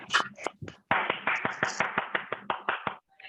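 A small number of hands clap at a school elocution competition, with sharp, distinct claps in an uneven rhythm that settles into a steady beat. The sound is close and dry, and a few voices are heard briefly at the start.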